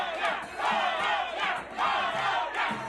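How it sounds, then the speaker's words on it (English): Colombian football fans at a crowded final-game watch party cheer and chant in loud, surging waves of massed voices, rising and falling in bursts. "we saw many fans cheering for their country"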